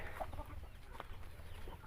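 A Rhode Island Red hen clucks softly in a backyard chicken area, with a few faint, short clucks spread over a couple of seconds against quiet farmyard background.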